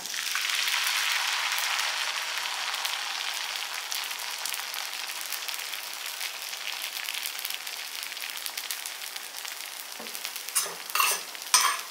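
Ragi dosa batter hits a hot appam pan with a loud, bright sizzle that settles into a steady crackle, then a few sharp scraping clatters near the end.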